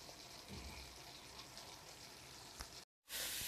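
Chicken liver frying in a pan makes a soft, steady sizzle with faint crackles, followed by a brief silent cut and then a louder burst of hissing.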